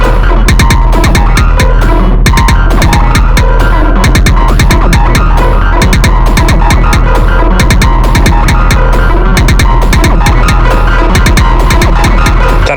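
An Erica Synths LXR Eurorack drum synth pattern with a delay effect: loud, driving rhythmic hits over a constant low bass pulse, with dense repeating echoes trailing each beat.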